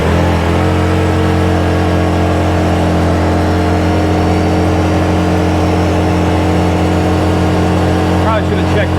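A 2022 ODES 1000 UTV runs in high gear with a loud, steady engine drone and humming drivetrain, close to the microphone throughout, wind noise on top.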